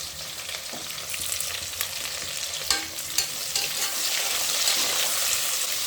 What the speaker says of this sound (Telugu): ఇప్పుడు మనం బంగాళదుంపలు వేసుకుందామండి